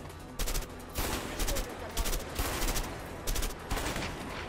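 Players shoot in a battle royale video game, sending repeated bursts of automatic gunfire in quick clusters. The shots are moderately distant and fairly quiet, with short gaps between volleys and faint voices beneath.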